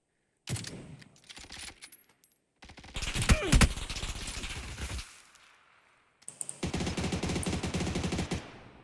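Rapid bursts of automatic gunfire rattle in several volleys with short gaps between them, loud and close, in a video game.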